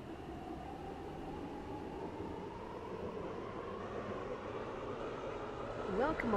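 A video game train in Transport Fever 2 rumbles steadily along the rails with a rising motor whine, growing slightly louder toward the end.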